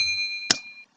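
A bright notification bell chime rings once, a single sharp strike with a sustained metallic ring that fades out after about a second, heard alone and clear.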